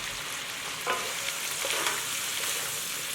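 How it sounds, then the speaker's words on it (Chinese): Starch lumps stir-fried in oil in a wok, a steady close sizzle with scraping stir strokes around the one- and two-second marks, continuous and alone. "接着就把准备好的淀粉坨子倒入锅内"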